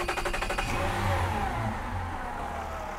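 The engine of a Nord Silver 655 motorboat catches with a quick start. A brief rhythmic chug settles into a steady mid-pitched running drone that stays close and fairly loud, with no talking.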